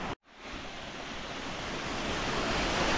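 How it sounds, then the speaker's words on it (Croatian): The tall Ilomska waterfall on Vlašić mountain in Bosnia and Herzegovina, heard from just below as a loud, dense, continuous roar that swells slightly after a brief dropout at the start, with no voices. "Veliki vodopad, sada smo ispod njega"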